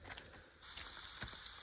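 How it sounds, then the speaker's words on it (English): Thick burgers sizzle over a wood fire, a soft steady crackling hiss that swells after a brief lull, quiet and close with no talking. "Now it's sizzling."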